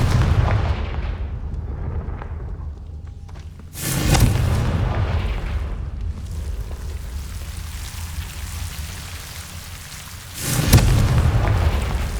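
Two loud, broad blasts from the Confringo fire spell in the video game Hogwarts Legacy, several seconds apart, each a sharp boom that decays into a rumbling wash, with low ambient noise between them.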